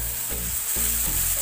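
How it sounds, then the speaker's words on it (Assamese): Boiled bamboo shoot is stirred in a pan with rice, a steady sizzle with a few scraping strokes of the spatula, close and continuous. "একেলগে মিক্স কৰি দিম।"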